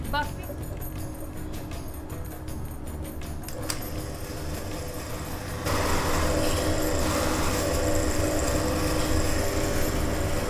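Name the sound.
buffing wheel polishing a wood carving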